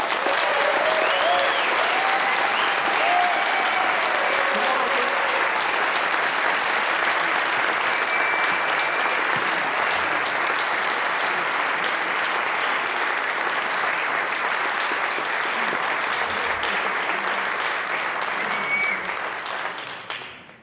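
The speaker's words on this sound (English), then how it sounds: "please give a thunderous ovation to Buck's son, Mr. Lou, Hall of Famer, Mr. Lou Brock" A large audience at the Buck O'Neil Legacy Awards gives a sustained, thunderous ovation, with dense applause holding steady at full loudness for about twenty seconds before tapering off at the end.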